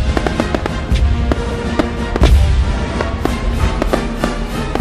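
Fireworks sound effect in a youth theatre performance about Bonfire Night and Gunpowder Plot, with repeated sharp crackling bursts and pops scattered irregularly over a dense rumbling bed, loud and continuous.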